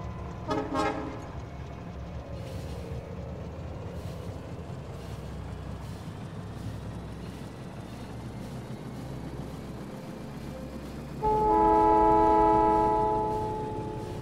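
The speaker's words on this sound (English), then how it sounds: "Let's just ride the train down" A steady rumbling train runs along the track in Factorio, then a loud horn blast sounds near the end, with game-like smoothness and no talking.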